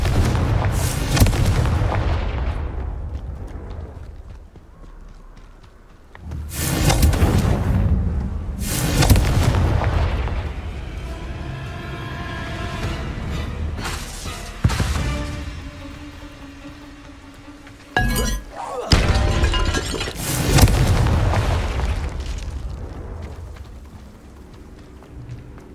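Confringo fire-spell explosions in Hogwarts Legacy, several loud booming blasts in separate bursts with rumbling decays between them, with no talking.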